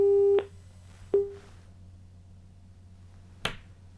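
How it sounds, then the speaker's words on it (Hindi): A telephone busy tone follows a disconnected call during a news broadcast: a steady tone cuts off, gives one short beep, then stops, with a sharp click near the end and a faint hum underneath. "लगता है वैभव का फोन डिस्कनेक्ट हुआ है।"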